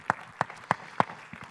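Four sharp claps at an even, slow pace, close and distinct, with a softer fifth near the end, at a film festival closing ceremony in Saint-Jean-de-Luz.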